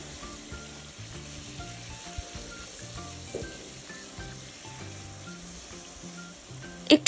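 Tilapia fish frying in hot oil, giving a steady soft sizzle with small crackles throughout and a few louder pops at the very end.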